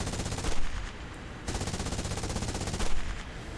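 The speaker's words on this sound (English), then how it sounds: "the guns sound pretty good too" Machine gun fire from an aircraft in the War Thunder video game rattles in long, dense, loud bursts with brief pauses between them, and no voices over it.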